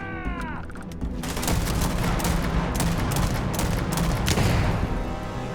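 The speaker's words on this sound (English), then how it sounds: "Hey, an explosion." Explosion and heavy gunfire in the space game Starfield, a loud dense barrage of blasts and rattling shots filling the whole stretch with no letup, after a brief tonal sweep at the start.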